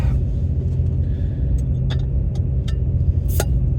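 Pickup truck engine idling with a steady low rumble close by, a constant drone that carries a few faint sharp ticks and a brief higher squeak near the end, with no talking.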